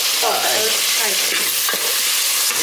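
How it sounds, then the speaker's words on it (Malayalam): Tomatoes sautéing over a medium flame, a loud, close, continuous sizzle with the scrape of stirring running through it. "ഈ തക്കാളി ഇട്ടതിന് ശേഷം 1 മിനിറ്റ് ഒന്ന് വഴറ്റണം."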